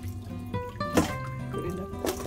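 Water drips and trickles from a handful of salted mustard collard greens as they are squeezed by hand, several soft splashing bursts close by, with no talking.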